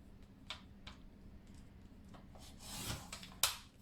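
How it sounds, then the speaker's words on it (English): A paper tab being trimmed for a boho pocket folio: quiet rubbing and scraping strokes, then a louder rasping cut and a sharp snip near the end. "I'll just trim a little bit off here."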